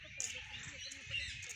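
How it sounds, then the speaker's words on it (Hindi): Birds chirping among ancient trees at Vanshivat in Mathura, a sacred grove with climbing vines; faint high twitters and calls sit steadily over low rumble and murmuring background. "पक्षियों का कलरव चहचहाते हुए"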